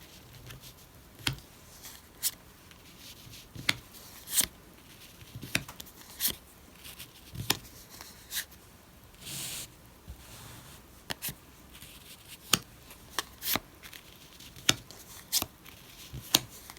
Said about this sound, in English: lay the terrain cards, the safe cards, and the safe reduce cards down on the table in 4 rows of 5